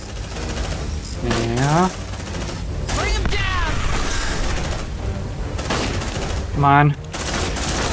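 Bursts of gunfire in Aliens: Dark Descent, a few separate volleys spaced a couple of seconds apart under game noise and brief spoken remarks.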